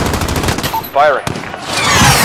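Gunfire in Call of Duty: Modern Warfare (2019), a rapid burst of shots amid dense battle noise, loud and close, with a brief voice in the mix.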